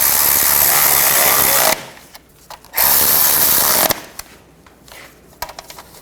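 A power tool drives bracket bolts tight during a 2009-17 Chevy Traverse knock sensor replacement, with two loud, close whirring bursts separated by a short pause, then quieter clicks and handling noises.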